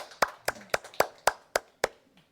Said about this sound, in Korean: 박수 보내드릴게요